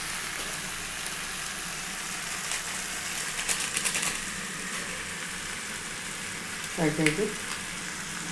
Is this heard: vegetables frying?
yes